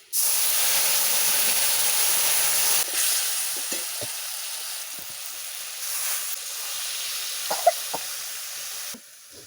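A pan of water with mango, chili, turmeric and cumin boils hard for a fish curry, giving a loud, dense steamy hiss that drops to a quieter simmer after a few seconds, with a few faint bubbling pops and no voices.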